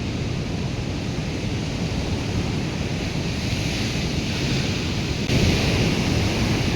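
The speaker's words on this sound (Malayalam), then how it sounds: "അപ്പം അത്രയും ആക്രമിച്ചിട്ട് കടൽ കയറിക്കൊണ്ടിരിക്കുകയാണ്." Sea waves surge onto the beach at Valiyaparamba, where the sea is eroding the shore: a continuous loud roar of surf mixed with wind buffeting the microphone, rising slightly near the end, with no voices.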